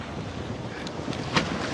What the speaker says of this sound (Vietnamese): Sóng kinh khủng luôn